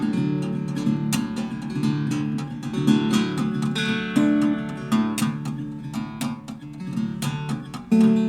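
Guitar imitating a big train slowing down in a tunnel during a live blues performance, with strummed chords and bent, ringing notes that gradually thin out and ease off in a steady, close, unaccompanied passage.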